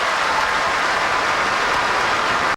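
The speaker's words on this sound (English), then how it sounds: "Look at those Warriors fans standing and cheering right now. Get some applause from the crowd right there." Warriors fans at a basketball game produce a steady, dense wash of crowd cheering and applause, loud and continuous throughout with no distinct voices standing out.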